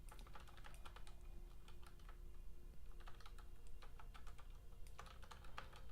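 Rapid typing on a keyboard, a continuous patter of light, close key clicks with brief pauses, alone without speech.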